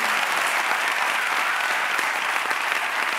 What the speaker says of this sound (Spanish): Un aplauso para Jordi, que se pone en el podio, joder.